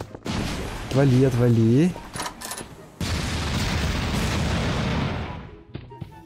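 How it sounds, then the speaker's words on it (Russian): Garry's Mod gunfire: bursts of booming shots and a long noisy blast, with a few sharp cracks at the end; someone speaks briefly. "Ого, там выстрелы."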